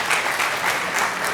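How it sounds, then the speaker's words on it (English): At a senior awards and cording ceremony, an audience gives a brief, dense burst of steady applause, fairly loud and sustained throughout. "Come clap. Get a clap."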